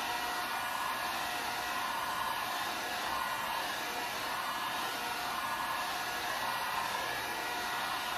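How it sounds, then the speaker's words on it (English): A hair dryer blows steadily nearby to dry paint on a stenciled wooden surface, a continuous loud whooshing hum that never changes pace, with no voices. "I'm going to go ahead and hit it with a dryer."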